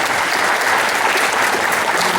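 Audience at a presentation event applauding, a full, steady burst of clapping at close range with no voices over it.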